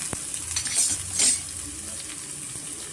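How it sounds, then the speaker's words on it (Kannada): Chicken gundkai pepper dry, with green chilli added, frying in a pan: a soft, continuous sizzle with a couple of brief louder hissing surges, heard alone without any voice. "ಕ್ವಾಂಟಿಟಿ ಕಮ್ಮಿ ಇರೋದ್ರಿಂದ ಇರೋದು ಸ್ವಲ್ಪ ನಾವು ಫ್ರೈ ಮಾಡ್ಕೋಣ"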